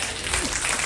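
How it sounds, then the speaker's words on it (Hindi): Loud, continuous applause from a congregation clapping at a Christian sermon, a dense wash of hands filling the whole second. "हां, यीशु के लिए जोर से ताली बजाइए"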